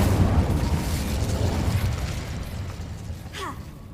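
Incendio fire spell blast cast in Hogwarts Legacy, a loud broad whooshing burst that swells at the start and fades over a few seconds, with a faint rising magical chime near the end.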